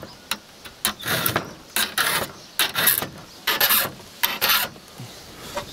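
A hand file rasps across saw teeth in repeated strokes, each a short bright scrape with brief pauses between, close and clear with no talk, as the teeth are sharpened along one side of the saw blade.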